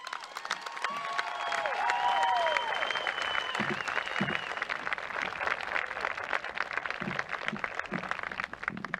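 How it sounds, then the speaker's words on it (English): A graduation audience applauds after a student speech at a school ceremony, steady crowd clapping at moderate level with a few cheers and whistles rising early on, under scattered voices. "keep that applause for our next guest"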